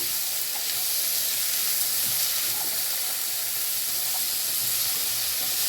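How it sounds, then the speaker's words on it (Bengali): Potatoes frying in a pan while being stirred: a dense, even sizzle runs throughout, broken only by a few faint, soft knocks from the stirring. "এবারে এইটা ভালো করে একটু নাড়াচাড়া করে ভেজে নেব"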